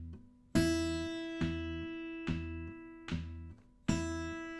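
Fingerstyle guitar in E for a blues pattern: a bright pinched note with a bass note, then three palm-muted thumb bass notes, and the pinch comes round again in an even, steady rhythm.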